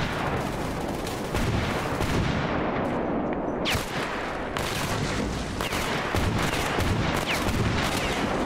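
Gunfire in the video game S.T.A.L.K.E.R. Clear Sky, loud bursts of rapid shots and heavy reports piling over one another with brief gaps, dense and close.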